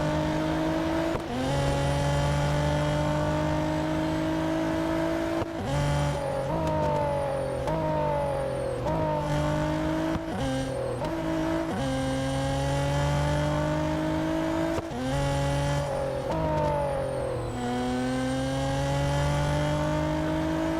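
A race car engine in the mobile game Real Racing 3 revs steadily and climbs through repeated gear shifts. Each upshift briefly drops the pitch before it rises again, and the sound stays loud and continuous.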